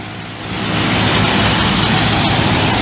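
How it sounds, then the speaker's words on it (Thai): Road traffic passes at kilometre 6 in Sattahip, Chonburi, Thailand, a broad, loud rushing roar of cars that swells in after a quieter start and then holds steady, with no talking. "อาจจะมีเสียงรบกวน เป็นเสียงของ รถยนต์นิดหนึ่งนะ"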